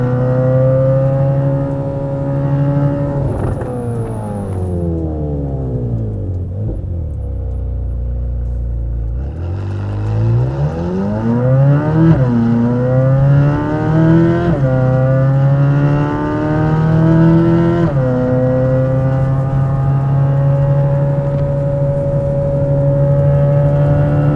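Corvette C8 Z06 with a new aftermarket exhaust on the move, a loud continuous engine drone that drops and rises with shifts and revs, close and alone without talk for over twenty seconds.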